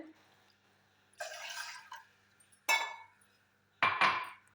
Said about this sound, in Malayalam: ചായക്ക് വെള്ളം ഒഴിക്കാൻ പോവാ കേട്ടോ രണ്ട് കപ്പ് വെള്ളമാണ്